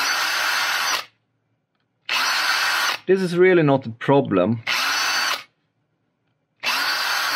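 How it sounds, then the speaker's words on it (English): Power drill runs in several bursts of about a second and a half, loud and steady high whine, separated by silence, drilling out mounting holes on a circuit board; someone speaks briefly between bursts. "take your drill and drill the holes up"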